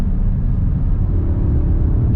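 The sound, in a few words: Audi S3 downshifting under braking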